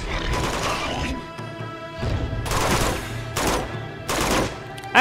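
Bursts of automatic gunfire from enemies in Uncharted 2: Among Thieves, loud rapid rattling volleys in several separated waves with brief gaps between them.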